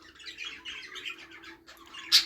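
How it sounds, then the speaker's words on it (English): Budgies in a breeding room chirp and chatter in quick overlapping bursts of bright warbling, ending in one loud sharp squawk, with a steady low hum beneath. "So I thought we would just show you some of our breeding birds."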